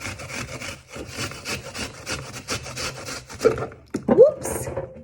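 A whole apple is rubbed against a grater for Passover charoset in a rhythmic run of close scraping strokes, followed by a couple of brief knocks and clatters as pieces fly off.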